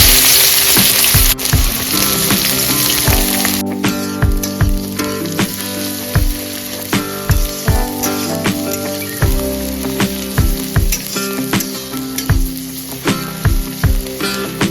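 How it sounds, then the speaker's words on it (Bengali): Chopped onions fry loudly in hot mutton fat with cumin seeds and a torn bay leaf, a dense close sizzle punctuated by regular scraping strokes of a spatula against the pan. "দিয়ে দেবো এখানে পেঁয়াজ কুচি।"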